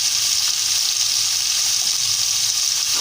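Sweet potatoes sizzle in about two tablespoons of hot oil in a home kitchen, giving a steady, close, dense crackle that holds evenly throughout with no voices.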